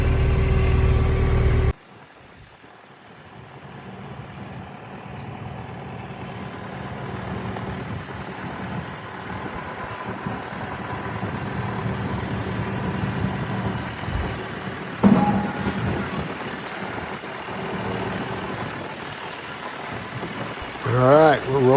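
A 2014 Terex TLB840 backhoe engine rumbles steadily while the machine drives along, a low continuous drone after a brief loud start, with speech heard faintly and a short clatter near the end.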